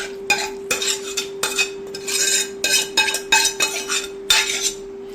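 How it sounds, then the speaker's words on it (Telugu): Curry being spooned as another layer into a pot of tofu biryani: repeated close metal spoon scrapes and clanks against the pot in quick bursts, over a steady background hum, with no speech. "ఇప్పుడు ఇంకో లేయర్ మళ్ళీ కర్రీ వేసేద్దాం."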